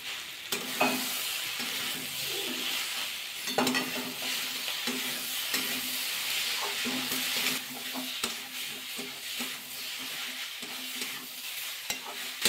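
Egg bhujia with soybean chunks is stirred in a hot pan with a steady sizzle and frying hiss, and repeated scraping strokes of the spoon run throughout.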